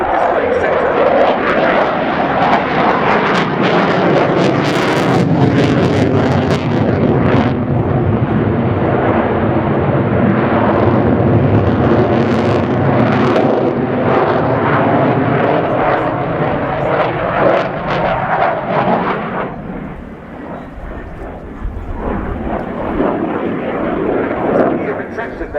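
A French Air Force Rafale C jet flies a display pass at RIAT with its undercarriage down, a loud continuous engine roar swelling and easing over the whole stretch while a commentator talks throughout.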